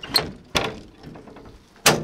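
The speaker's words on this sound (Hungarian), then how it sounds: "Így nyitod az ajtót." An old truck's door, a bare unupholstered cab door with a simple handle, opening with a few sharp clunks and thuds, close and fairly loud, separated by brief quiet gaps.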